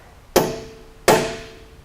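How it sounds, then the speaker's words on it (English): Two sharp metallic hammer strikes on a transfer punch, about three-quarters of a second apart, each ringing briefly before fading, close by with no talking. "take a transfer punch, line it up with my mark, and punch it, hit it"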